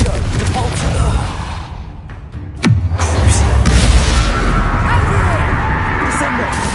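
Booming spell blasts from Confringo and Depulso in Hogwarts Legacy, with one sharp, loud impact followed by rumbling, crackling explosion noise and chaotic combat sounds, alongside a shouting voice.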